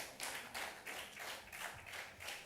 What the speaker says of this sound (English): Keep clapping. Don't stop clapping until he comes on stage.